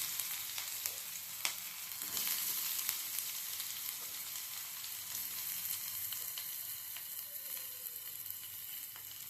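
Chopped onion, added after finely chopped garlic, fries in a pan for bread pizza topping, giving a steady, close, hissing sizzle with a few stirring taps and no talk.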